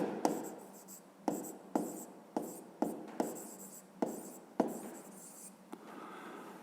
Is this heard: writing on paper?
yes